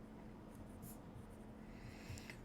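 Pen or marker writing on a board during an accounting lecture, a faint scratchy stroking heard close against steady room noise, with no voices.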